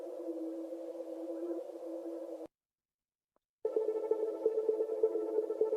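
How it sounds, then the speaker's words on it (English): Ambient atmosphere samples from Splice, a sustained tonal pad that holds steady, cuts to silence for about a second, then returns slightly brighter and pulsing. "I have like these atmosphere things that I've just literally got in Splice."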